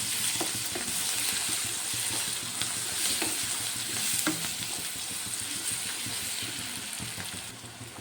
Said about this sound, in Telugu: బాగా ఒకసారి ఫ్రై చేసుకోవాలి. ఆనియన్స్ మొత్తం ఫ్రై అవ్వాలి.